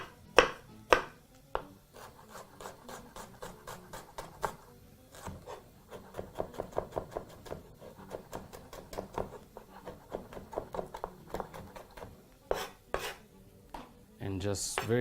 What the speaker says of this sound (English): finish by chopping that through, making sure it is as fine as possible